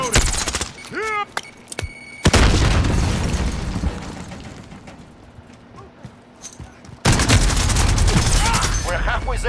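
Gunfire bursts and booms in Call of Duty: Modern Warfare, loud crackling volleys in two separate stretches with a quieter rumbling gap between, mixed with shouted callouts and game voice lines.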